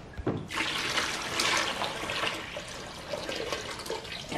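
Water pours and splashes out of a flood-damaged intercooler removed from a flooded 2018 Audi RS3, a close steady gush that starts abruptly and keeps flowing throughout, with no talking.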